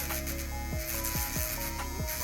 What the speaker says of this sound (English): I'm still going to give it a little sand just to make sure it's completely smooth.